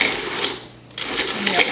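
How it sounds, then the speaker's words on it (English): A food processor pulses butter into flour for a crostata dough in short bursts, with a brief pause between whirring pulses, heard close up in a kitchen. "You could do it all in the food processor if you wanted to. And so I'm just going to use the pulse button here."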